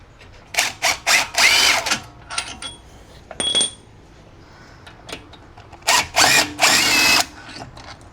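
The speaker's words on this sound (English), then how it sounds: "now I should be ready to try to get this caliper off by getting off these monstrous bolts here" Close, loud bursts from a power tool or impact wrench spinning out large front brake caliper bolts on a Porsche Cayenne GTS, several sharp rattling runs separated by short pauses and softer clicks.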